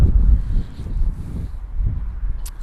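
Wind buffets a microphone outdoors beside a 2021 Mercedes-Benz GLA 45 AMG, heavy low rumbling gusts that swell and ease in uneven waves.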